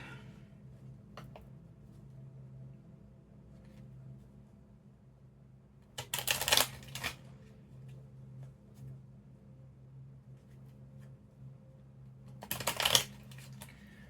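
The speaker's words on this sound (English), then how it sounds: "Let me shuffle the few cards first." Two short bursts of oracle cards being riffled, about six seconds apart, over a steady low hum.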